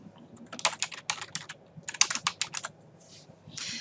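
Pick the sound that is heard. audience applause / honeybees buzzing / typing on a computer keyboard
typing on a computer keyboard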